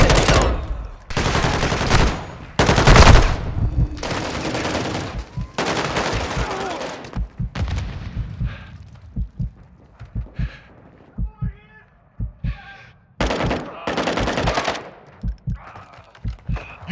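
Call of Duty DMZ firefight on Ashika Island: loud bursts of automatic gunfire and single shots in clusters, then sparser distant pops, with radio-style game voice lines in between.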